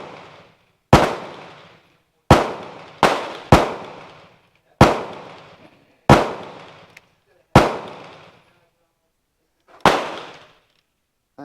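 FN FAL STG58 rifle firing nine sharp, loud shots at uneven intervals, each crack followed by a short echoing decay, with quiet gaps between.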